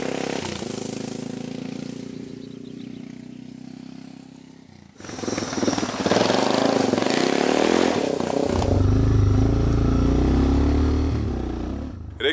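A Suzuki motorcycle engine pulls away at the start of a ride along a trail route in southern France, its revving rising into a strong low rumble and mixed with wind and handling noise.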